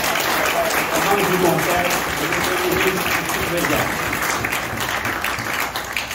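An audience at a public gathering breaks into sustained applause, a broad wash of clapping that fills the room while a voice speaks over it and slowly fades toward the end.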